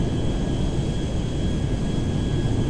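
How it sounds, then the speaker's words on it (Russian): Aircraft climbing in Grand Theft Auto 5, a loud continuous engine roar and rumble holding steady throughout without speech. "Взлетаем все выше и выше."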